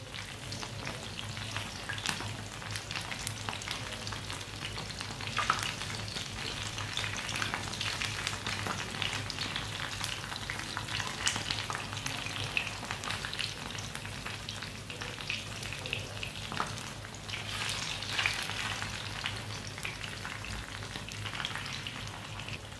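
White kebabs fry on a hot tawa griddle with a steady, close sizzle and crackle of oil that holds evenly throughout, with no talking.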